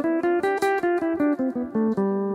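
A guitar plays a one-octave Mixolydian mode scale, single notes climbing stepwise in an even, unhurried rhythm, each plucked clearly and ringing up close, played alone.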